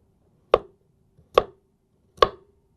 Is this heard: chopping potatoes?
yes